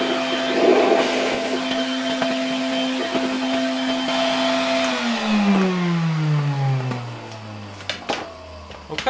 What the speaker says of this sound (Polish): Jeszcze wykorzystam ten odkurzacz też w roli dmuchawy.